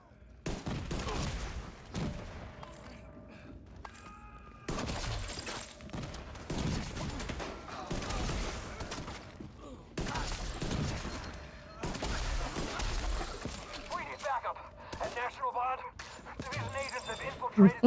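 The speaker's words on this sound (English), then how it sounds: "Somebody shot at me as I was opening this thing." Bursts of gunfire from The Division 2 video game crack out in scattered clusters and short volleys amid game noise, with a person talking over the action.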